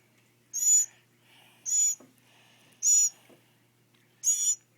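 A hungry baby bird gives four loud, high, rasping begging calls in evenly spaced bursts, each about half a second long, with quiet gaps between them.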